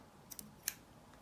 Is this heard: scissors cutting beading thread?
yes